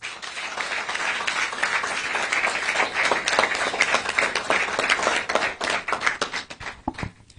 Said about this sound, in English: Another round of applause, ladies and gentlemen, for Engineer Dr. Okengo.